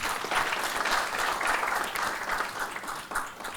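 A townhall meeting audience gives a sustained round of applause, dense and even throughout, fairly loud with many hands clapping at once.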